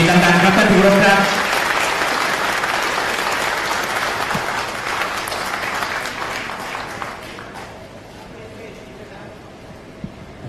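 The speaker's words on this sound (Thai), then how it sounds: "เสียงปรบมือให้กำลังใจดังๆครับท่านผู้ชมครับ" Loud crowd applause at a Thai political party event, dense and sustained, slowly fading over several seconds while a voice briefly speaks near the start.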